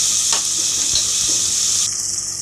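Onions and green chili sauté for chana biryani, a steady close sizzle of frying with a few brief stirring scrapes, with no talking.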